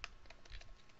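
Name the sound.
computer keyboard typing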